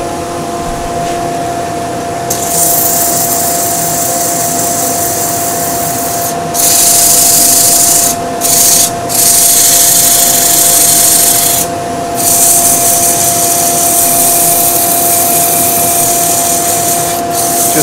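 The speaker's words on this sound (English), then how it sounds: "Don't forget your bowl sander as well, of course." A bowl sander runs against a wooden bowl on a lathe turning at reduced speed, producing a loud, continuous abrasive hiss with a steady motor hum, briefly dipping as the sander lifts off the wood.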